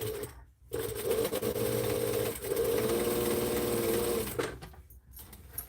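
Sewing machine stitching through a quilt, a steady, loud, continuous mechanical whir that starts, breaks briefly for a backstitch and runs again for several seconds before stopping.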